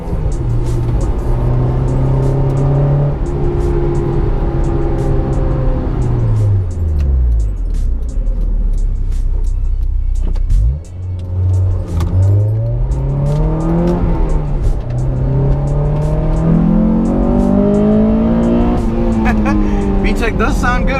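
Honda S2000 AP1 fitted with an HKS high power exhaust, driven hard from inside the car, engine note climbing through VTEC revs and shifting gears repeatedly, loud and continuous with a voice talking over it.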